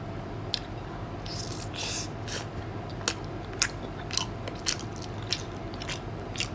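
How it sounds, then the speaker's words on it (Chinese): Close, crisp bites and chewing on a big black sausage, a handful of sharp crunchy snaps spaced over a steady low background, with no talk. "我先咬一口啊。"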